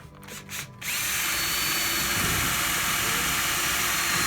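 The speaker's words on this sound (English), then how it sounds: "That's 1/4 inch steel that we're drilling through right now" A power drill bores through quarter-inch steel during an enclosed trailer rebuild, a few short trigger bursts and then a loud, sustained high-pitched whine and grinding roar, close and continuous with no talking.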